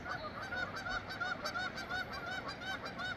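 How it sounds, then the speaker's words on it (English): Several geese honk repeatedly in a noisy, overlapping chorus at moderate distance on a mountain hike, the calls coming in quick, uneven bursts. "Sound like geese, but what the heck? Noisy."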